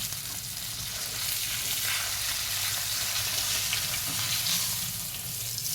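Fish frying in a hot pan and being turned over, a steady loud sizzle with crackling hiss continuing evenly throughout.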